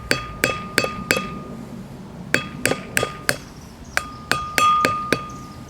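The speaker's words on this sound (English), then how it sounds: "I just like to use a screwdriver and a hammer and just kind of pop it out of there" A hammer drives a screwdriver to pop the front brake bearing seal out of a Chevrolet C10 truck hub, giving about fifteen sharp, ringing metallic taps in uneven bursts with a short pause midway. The taps are close and clear.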